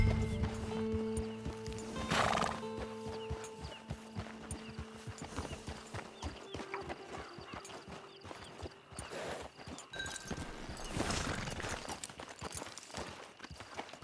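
A horse in the Red Dead Online video game clip-clops steadily at a walking pace, the hoofbeats moderately close, with a couple of brief snorts or whinnies breaking through.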